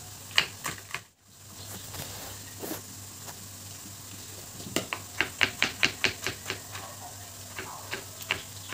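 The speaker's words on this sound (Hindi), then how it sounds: "हरी मिर्च और टमाटर को भी चॉप कर लेते हैं बारीक बारीक" Green chillies and tomatoes are chopped finely on a board, a run of sharp, quick knife taps in an even rhythm, close and crisp, after a quieter stretch with scattered softer taps.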